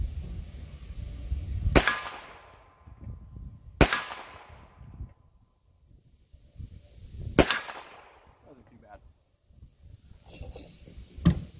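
A CZ Scorpion 9mm fired outdoors, four loud, sharp shots spaced a couple of seconds apart, each followed by a short fading echo.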